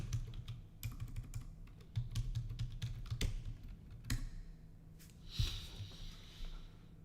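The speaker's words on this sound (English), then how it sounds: "so I can type in my password" Keys clack on a computer keyboard as a password is typed, a quick run of irregular taps and short bursts over low room hum, with no talk.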